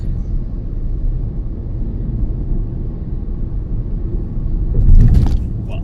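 A car cruises along a national highway in Kerala with a steady low road rumble throughout and a brief louder thump near the end.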